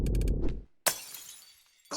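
Glass shatters in a video game with a sharp crash, preceded by loud game music and followed by scattered tinkling debris, then another burst of noise at the end.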